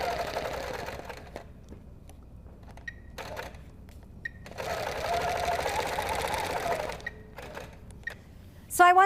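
A sewing machine fitted with a 360 Wonderfoot hopping foot stitches in bursts, its rapid mechanical whir starting and stopping in short and longer runs, with faint clicks and a brief sharp tone at the end.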